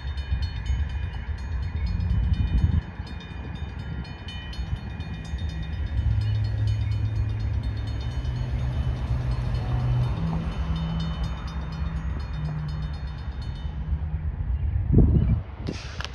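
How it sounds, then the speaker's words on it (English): At a downtown level crossing, a freight train rumbles past with steady low wheel and engine noise, a crossing bell pinging throughout and a short horn blast near the end. "the train is right there"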